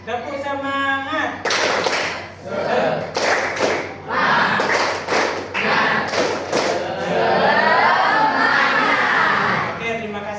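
Schoolchildren in a classroom repeat a patterned spirit clap, clustered hand claps landing in rhythmic groups between loud chanted words, closing with a sustained cheer from the whole class.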